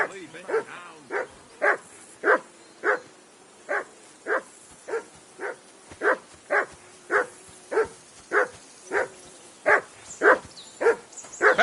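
A dog in the video game Kingdom Come: Deliverance II barks in a long, insistent run of evenly spaced barks, nearly twenty in steady rhythm, fairly close and clear.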